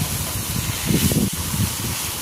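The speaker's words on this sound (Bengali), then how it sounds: "এখন আমি এটা একটু তেলে ভেজে নিচ্ছি, শুটকিটাও একটু তেলে ভেজে নিচ্ছি।" Pointed gourd peels and dried fish fry in hot oil, giving a steady hiss with crackling bursts that swell and fade, close and moderately loud, with no voices.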